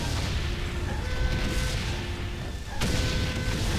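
An explosion in the World War I video game Valiant Hearts gives a continuous low booming rumble with scattered distant blasts and a sharp new burst near the end, and no speech over it.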